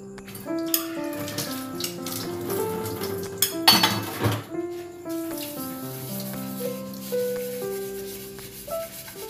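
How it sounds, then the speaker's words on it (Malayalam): Washed pots, pans and cutlery clink and clatter as they are set out to dry in a home kitchen, with running water from the tap, near and steady. "അപ്പോൾ പാത്രങ്ങൾ കഴുകി അവിടെ ഉണങ്ങാൻ ഞാൻ വെച്ചിരിക്കുകയാണ്."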